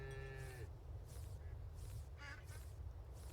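Cartoonish cows moo in the farming video game Farm Together 2, several drawn-out calls spaced through the clip over a steady low background hum, faint and with no talking.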